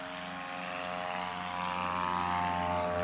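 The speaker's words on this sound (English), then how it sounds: "That is a great takeoff in an Aviat Husky." An Aviat Husky takes off during a STOL competition at the 2024 Sodbusters event: a steady, droning propeller engine holds a constant pitch and swells slightly louder over the few seconds, with no talking.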